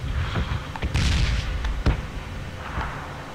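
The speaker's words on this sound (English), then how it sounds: "stop it with the explosions" Explosions and gunfire in PUBG on Xbox One X: several loud booms and sharp blasts rumble through the mix, with a heavy burst around the middle and fainter rolling detonations afterward, no talking.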